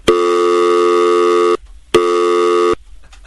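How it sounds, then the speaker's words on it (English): Telephone line tone on a downed line, two loud steady electronic buzzing tones of about one and a half and one second, separated by a short gap, heard alone. "It's no go, dude. The Bamforth line's down."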